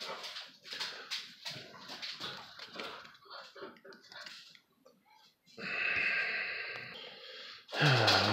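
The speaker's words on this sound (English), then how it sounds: "at least I've stopped my dog from chewing on the chair for now" A dog whimpers, sniffs and breathes near a chair it has been chewing, with soft snorts and rustling, and a longer whine and a sharp yelp toward the end.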